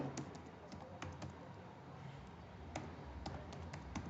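Coding on a computer keyboard, with steady, fairly close keystroke taps in an irregular rhythm over soft background noise.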